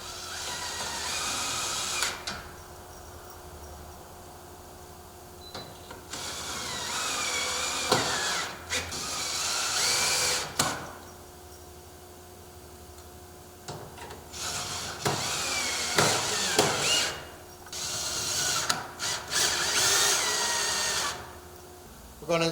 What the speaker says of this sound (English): Now we're going to put the screws in the hinges.